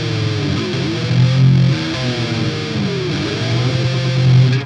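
Heavily distorted electric guitar playing a riff with whammy bar dives, loud and sustained with pitch bends swooping down, no talking over it.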